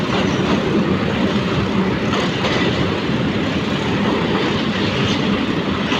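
Surma Mail, a small local train in Bangladesh, runs steadily on its rails, a loud, continuous rumble with a faint clickety-clack that holds at an even level throughout.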